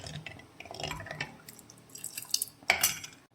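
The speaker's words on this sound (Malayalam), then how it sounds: "ഇതിലേക്ക് ശുദ്ധമായ ഒരു ഗ്ലാസ് മോരാണ് ഞാൻ ഒഴിച്ചു കൊടുക്കുന്നത്" A glass of sour, butter-removed buttermilk is poured into a pot of vegetable curry, giving a soft trickle with small splashes and light clinks, faint and with no talk.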